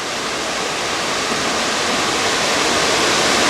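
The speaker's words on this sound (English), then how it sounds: "Don't yet know what this waterfall is because I haven't seen any labels for it yet." A waterfall near Pakse in Laos roars as a steady, dense wash of falling water, loud and unbroken throughout, with no voices over it.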